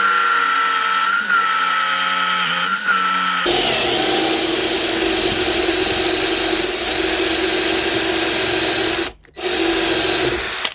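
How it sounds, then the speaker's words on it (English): A power drill fitted with a long screwdriver bit drives screws while a storage box and step are fitted to a Shetland Cadet. Loud, continuous whirring shifts pitch partway through and stops briefly before starting again. "You even get the long screwdriver bit as well, which you need"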